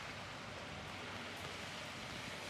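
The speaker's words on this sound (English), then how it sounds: "Getting out of the rain now." Steady rain falls outdoors during a news report, a dense, even hiss that runs unbroken with no voices heard.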